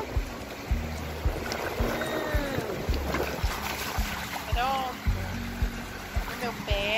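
A muddy hand is rinsed in shallow seawater on Caraguatatuba beach, with close splashing and sloshing under a person's ongoing talk and the faint wash of waves.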